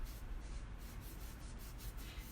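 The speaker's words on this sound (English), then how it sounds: "I do sand these boards when I bring them home from Menards" Steady hand sanding of a wooden board from Menards with rounded edges, a continuous close rasping rub with rhythmic strokes, no voices.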